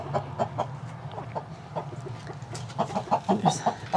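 Brahma hens clucking inside a backyard chicken coop, a steady chorus of short, repeated clucks and murmurs at close range that grows livelier toward the end.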